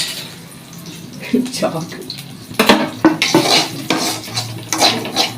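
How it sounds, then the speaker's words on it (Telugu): A spoon scrapes and clinks steadily around a pot of rasam-flavoured Yippee noodles with tamarind as it is stirred until it colours, close and uneven, with a voice talking over the stirring. "సో ఇవి కలర్ వచ్చే వరకు కలుపుతూనే ఉండాలి"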